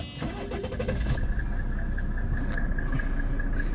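1995 Mercedes E300 diesel cranking briefly, catching and settling into a steady, even idle, close and loud with no talk.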